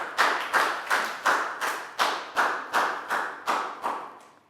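A Year 3 math class claps hands together in a steady rhythm, about eleven loud, crisp claps in unison, each ringing briefly before the next.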